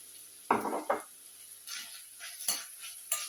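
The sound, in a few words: minced meat and onion frying in pan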